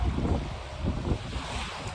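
Strong wind buffets the microphone in rumbling gusts at Shivrajpur Beach near Dwarka, India, with a low roar of surf or open water underneath.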